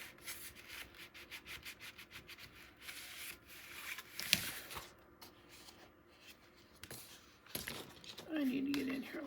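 Paper being burnished by hand onto the inside left panel of a 9 x 9 Graphic 45 Fairy Boutique mini album: close, steady rubbing strokes with short scuffing bursts and a few louder taps, with no talk over it.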